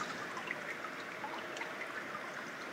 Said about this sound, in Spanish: cómo el agua va goteando y cae en el agua mineral.